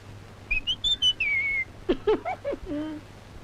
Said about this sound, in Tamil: நீங்க விசில் அடிக்கலாம்